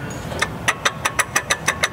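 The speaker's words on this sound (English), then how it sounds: "this idler pulley sounds awful" A worn idler pulley bearing in a car engine gives a rapid, regular series of sharp ticking chirps, about eight evenly spaced beats over a steady idle hum, loud and close.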